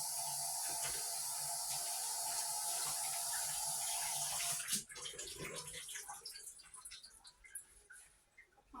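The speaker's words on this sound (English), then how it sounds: "Gotta wash my hands first." Water runs steadily from a sink faucet as hands are washed under it. After about five seconds the tap shuts off, leaving quieter clatter and movement nearby.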